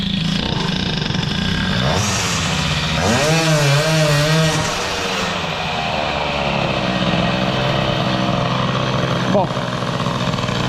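A Peugeot 103 moped fitted with an Airsal 65 hybrid air-cooled kit revs hard up and down, its engine note rising and dropping with a strained, uneven pitch while someone speaks over it.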